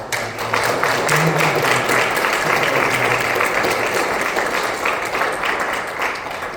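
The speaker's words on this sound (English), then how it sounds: "Can we give a round of applause?" An audience at an information session applauds steadily, dense clapping filling the room at an even level for several seconds.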